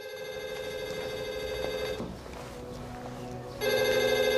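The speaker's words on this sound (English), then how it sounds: "I got a phone call." An old telephone bell rings loudly and steadily, pauses for about a second and a half, then rings again, with faint room noise in the gap.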